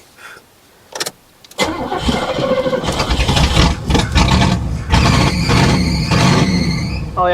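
A 1985 Buick LeSabre Estate Wagon cranks over and fires up with no working exhaust, settling into a loud, raw, sputtering idle that runs close and steady after a brief quiet start with a few faint clicks.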